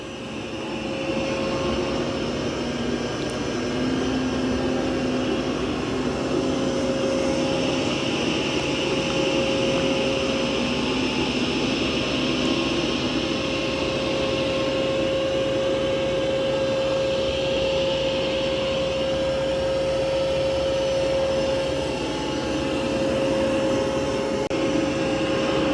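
A Mova P10 Pro Gen 2 robot vacuum runs on maximum suction boost over carpet, giving a steady, loud whirring hum with a constant high whine throughout.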